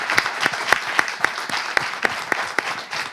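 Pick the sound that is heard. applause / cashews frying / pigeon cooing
applause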